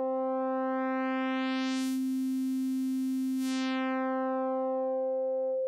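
A Bitwig Phase-4 synth playing a steady sine tone as phase distortion is increased, the pure note turning bright and buzzy in the middle before settling back, sustained and alone.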